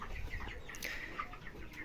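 Chickens on a poultry farm, some of them sick, cluck and call in a steady jumble with faint wing flapping, all moderately close and continuous without speech.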